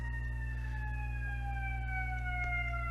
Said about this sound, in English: there's a CBR ambulance.